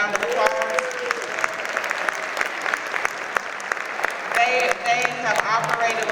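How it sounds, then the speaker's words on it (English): Applause from the audience at a Clayton County senior services VetConnect panel for the City of Riverdale, a steady clatter of clapping lasting several seconds with voices and speech mixed in over it. "The City of Riverdale, please give them a round of applause."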